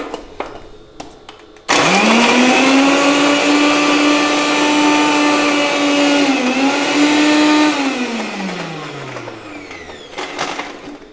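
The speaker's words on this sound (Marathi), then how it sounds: "आता हे मस्त मी मिक्सरला बारीक वाटून घेते मिरची." Mixer grinder grinding green chillies, garlic and salt into a coarse paste: a loud, steady whirring motor hum starts abruptly, holds for about six seconds, then winds down as the blades slow, with faint kitchen clatter before and after.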